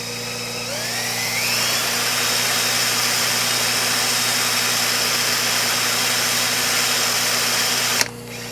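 A Sovereign lawnmower engine being cranked to start, with fuel line blocked, runs a loud steady mechanical drone close by that cuts off abruptly near the end.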